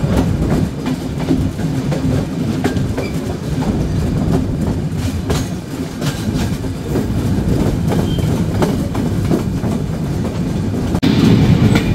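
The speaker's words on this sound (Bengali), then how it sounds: "ট্রেনটি প্রবেশ করলো জয়দেবপুর জংশন।" The Silk City Express rolls into Joydebpur Junction with a loud, continuous rumble and rhythmic clatter of wheels over rail joints, heard from on board and steady throughout.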